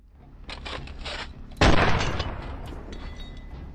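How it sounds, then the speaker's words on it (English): A Desert Eagle pistol exploding in a video game, one sharp loud blast after a quieter rattling lead-in, then a decaying rumble that trails off. "The Deagle has exploded"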